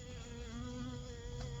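A honeybee buzzes steadily and up close during a live colony removal and queen marking in Victoria, Texas, a continuous droning hum with no talk over it.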